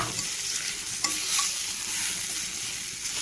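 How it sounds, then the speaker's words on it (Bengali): Roasted peanuts are stirred into beetroot frying in a pan, giving a steady close sizzle with the scrape of stirring throughout and no talking. "যে বাদামগুলো আমি ভেজে রেখে দিয়েছি সেই বাদামগুলো সব দিয়ে দেওয়া হলো। দিয়ে ভালো করে নেড়ে চেড়ে"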